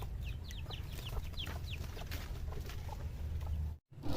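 A mother hen with her three chicks, soft repeated clucks alongside high chirping peeps from the young birds, close by over a steady low background rumble, no talking.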